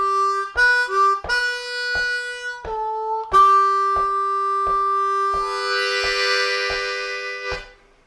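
Harmonica in second position plays a variation of Amazing Grace: a solo run of clear held reed notes with bent, sliding pitches and short breaths between phrases, close and alone, ending on a long sustained tone.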